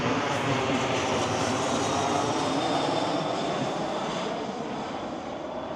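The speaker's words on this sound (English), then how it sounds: "There's a plane." Airplane passing overhead above an East Boston wetland marsh, a steady broad engine roar filling the whole stretch, loud and continuous with a slight fade toward the end, no voices.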